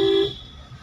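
A car on the road in Kalyani during Durga Puja gives one short, bright horn toot that cuts off after a fraction of a second, leaving a quiet background of traffic.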